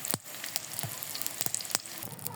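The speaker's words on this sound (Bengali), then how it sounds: "আমি এখানে তেলের উপরে পেঁয়াজ ছেড়ে দিয়েছি" Onions sizzling in hot oil in a pan, a soft steady crackle with a few sharper pops and occasional stirring scrapes, close and quiet.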